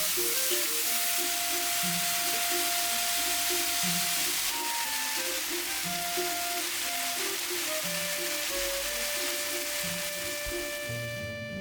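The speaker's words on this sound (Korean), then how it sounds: "양념 볶아둔 두부를 넣고 잘 섞이도록 슬쩍 볶아주세요." Seasoned tofu being stir-fried in a pan for a tofu mushroom rice bowl gives off a steady, dense sizzle with light tossing, under a soft melodic background tune.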